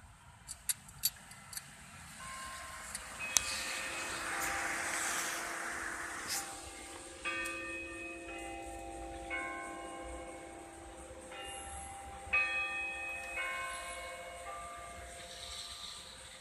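Berea College clock tower bells ring out a three-quarter chime outdoors, a sequence of sustained, overlapping tones with long decays, heard from a distance over steady low traffic rumble.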